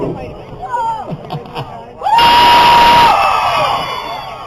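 A rodeo crowd at a county fair, heard at first as scattered murmurs and voices, then breaking into a loud, sustained group scream that holds for about two seconds and tails off into cheering.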